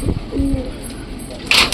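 Pet pigeons give a short, low coo close by, then a brief sharp rustle follows amid light background noise.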